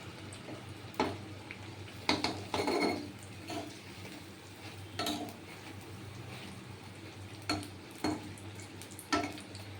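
Egg butter fry cooking in mustard oil in a pan, a low steady sizzle under intermittent clinks and scrapes of a utensil against the pan, close and moderately quiet, with no talking.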